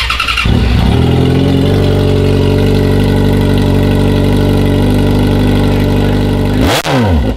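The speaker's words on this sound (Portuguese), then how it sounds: "Vamos testar aqui, vamos dar uma partida agora, né?" A motorcycle engine idles steadily and loudly throughout, with a brief rev or stutter near the end.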